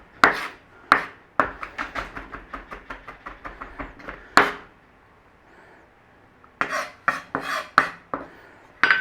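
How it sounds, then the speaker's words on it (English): Rapid knife chops on a cutting board while garlic is minced, a quick run of evenly spaced close taps followed by a pause and another short burst, with no talking. "Now mince it up as much as you want."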